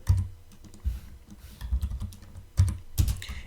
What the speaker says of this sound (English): in the downloads folder, type this command and find the file